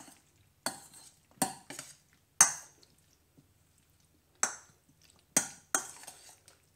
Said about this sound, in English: we'll take this and we'll just give it all a stir through